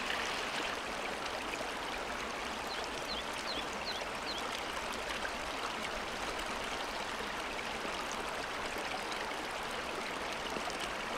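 Hot spring water at a remote Tohoku onsen in winter flows in a steady, close trickling rush that runs evenly throughout, with no voices over it.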